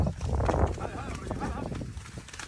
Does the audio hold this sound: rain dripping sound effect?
no